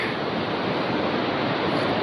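River water rushing through a rocky canyon, a dense, even hiss of flowing water with no breaks over two seconds.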